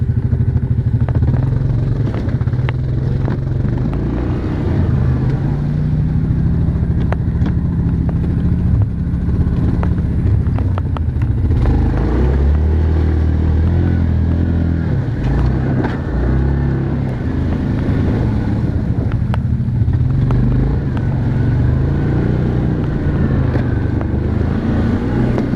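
A 2019 Yamaha Grizzly 700 ATV churns through icy March mud, its engine a loud, continuous low drone that rises and falls as it labours along, with clattering, wind buffeting and no voices.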